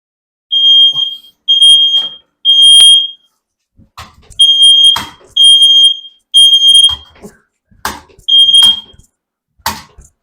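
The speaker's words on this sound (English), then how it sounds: "we got the alarm going off." A smoke alarm sounds loud, repeated high-pitched beeps in short bursts, interrupted by scattered clattering and bangs.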